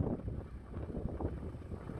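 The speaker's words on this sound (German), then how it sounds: "Es ist wieder sehr windig," Strong wind buffets the microphone at the harbour at Mariner's Wharf in Hout Bay near Cape Town, a continuous low rumbling rush with no talk.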